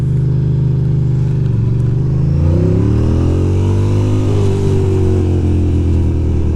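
A Ducati Monster 620 motorcycle rides on a freezing New York City street, its engine droning loudly and close, rising in pitch as it revs up through a gear change and then settling into a steady pull, with no talking.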